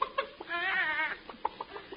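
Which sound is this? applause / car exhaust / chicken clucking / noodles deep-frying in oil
chicken clucking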